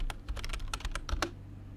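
Rapid keystrokes on a computer keyboard while entering a tag name in Unreal Engine, a quick uneven burst of clicks close to the mic that trails off near the end, with a low hum underneath and no talking.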